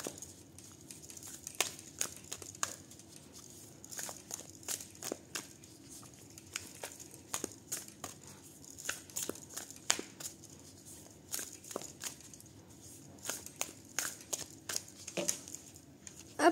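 Tarot cards being shuffled by hand, a steady run of soft crinkling flicks and light taps, close and faint, with no talking.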